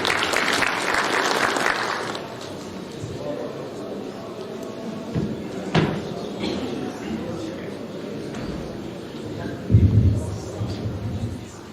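An audience at an opening ceremony in Tokat applauds to welcome a speaker. A short burst of clapping at the start quickly gives way to a voice talking over a quieter room.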